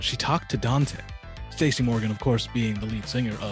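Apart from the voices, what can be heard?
No everyday noises stand out.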